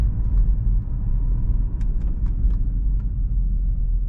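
A 600 hp Cadillac CTS-V heard from inside while driving, its engine a steady deep low rumble with faint ticks and clicks in the cabin and no talk.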